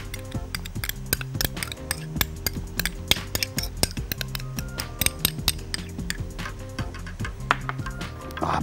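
A utensil works mustard and a drop of balsamic vinegar together in a pan, making a dense run of quick clinks and scrapes against the metal, close and fairly loud throughout.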